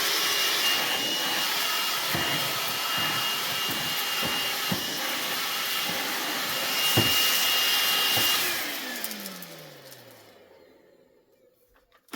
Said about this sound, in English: I can now take my DeWalt battery. And do some vacuuming.